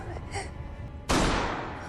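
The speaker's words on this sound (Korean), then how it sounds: "어디선가 들리는 총소리" A single sharp gunshot cracks out loud and broadband partway through a tense horror-film scene, then decays over a second of reverberant noise after quieter murmuring sounds.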